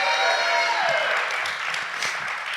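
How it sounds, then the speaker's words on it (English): A studio audience claps for a guest joining a recovery talk show, a steady wash of applause that holds through the whole stretch at moderate loudness, with no voices over it. "Give Edwin a nice round of applause."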